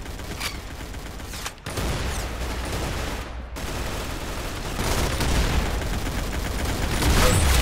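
Rapid gunfire in the Roblox shooter Arsenal, dense bursts of shots running almost continuously with a couple of brief dropouts, loud and close, swelling toward the end with no talk over it.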